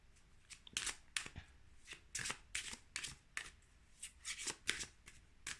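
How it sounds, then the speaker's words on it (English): A deck of oracle cards is shuffled in quick, repeated riffles, crisp and close, with no voices. "when you've had like loads of cards to shuffle with"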